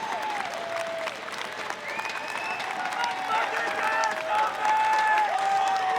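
Crowd at an Evo Rivals of Aether II match erupts in sustained applause and cheering, loud and continuous throughout, with announcers talking over the roar and in-game sound effects layered on top.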